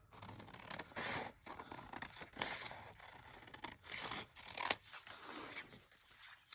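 Scissors cut out small paper pieces, making a run of quiet, close-up snips and scraping rasps in irregular bursts, with no talking.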